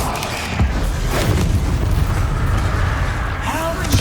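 A Bombarda spell explosion in Hogwarts Legacy gives deep, booming bursts among rumbling, crackling combat noise, loud and close, with a voice heard during the fight.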